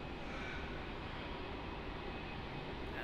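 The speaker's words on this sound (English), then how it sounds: "Taxing up here, we have the Jetstar that's just landed." A Jetstar airliner taxiing at Melbourne Airport after landing gives off a continuous broadband engine roar, steady and fairly distant, with no breaks across the short stretch.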